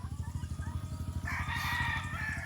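A rooster crows loudly nearby, a long drawn-out call, against a steady rhythmic mechanical chugging in the background.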